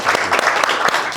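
An audience claps for Dr. Kwoba at a book talk on Hubert Harrison after he won the Frantz Fanon Outstanding Book Award. The applause is dense and steady with a few sharper individual claps, and no voices are heard.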